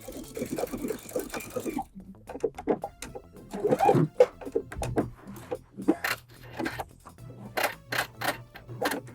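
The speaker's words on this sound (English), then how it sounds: "I'm going to sew over to the center of the panel" A sewing machine stitches a separating zipper into a lined fabric panel in short rapid bursts with pauses between them. A voice speaks briefly at the start.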